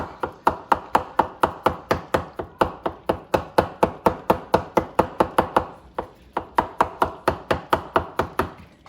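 A knife cuts through a pan-fried medium-well ribeye steak on a cutting board, a rapid, steady run of about thirty crisp, close taps against the board, pausing briefly near the six-second mark before resuming.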